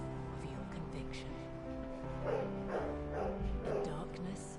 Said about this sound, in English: If you hear barking on the mic, sorry.